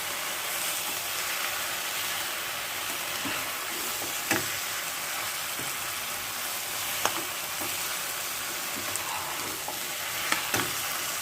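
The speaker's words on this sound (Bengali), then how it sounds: "আর একটু ভাজতে হবে, কারণ এখনো জল বেরোচ্ছে।" Cauliflower florets for a hot roast sizzle and crackle steadily in a hot pan, still giving off water, with a dense, even frying hiss and a few soft clicks of stirring throughout.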